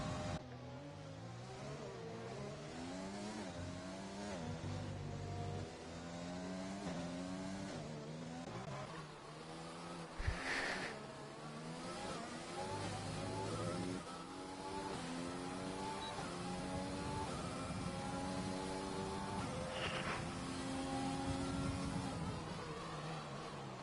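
Racing car engine on a flying lap in a racing video game at a Vietnam circuit, sustained revving with rising and falling pitch through gear changes and a brief tyre squeal, faint and continuous.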